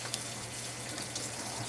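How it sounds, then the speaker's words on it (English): Aquarium water siphoning out of a 75-gallon tank down into a sump, a steady, even trickling wash heard close in a cramped space, with no talking. "Water siphoning back out of the tank into that sump well."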